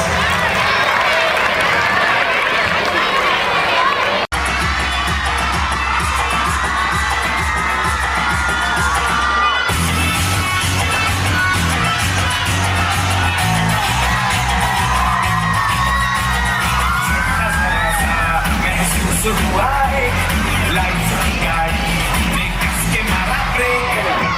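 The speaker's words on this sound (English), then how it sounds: "Give them a huge round of applause" Children cheer, shout and whoop at a school Children's Day celebration after a performance, a continuous loud crowd roar over pounding music with a heavy bass beat.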